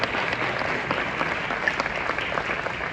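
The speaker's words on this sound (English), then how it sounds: "Just give her a round of applause." A round of applause from an audience at an event honoring Dr. Swannie Jett rolls on steadily at close range, dense and even throughout.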